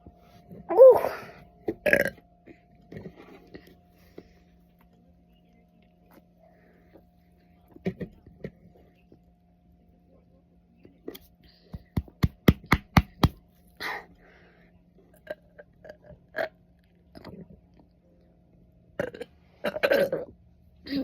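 A person burps repeatedly in scattered bursts, with a loud pair near the start and a fast run of short belches in the middle, separated by quiet pauses and some faint handling noise.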